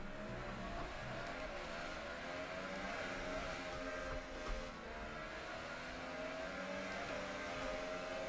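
An F1 car in the F1 2018 racing game revs hard with a continuous high engine whine, pitch stepping through rising gear changes, loud and close with no clear pauses.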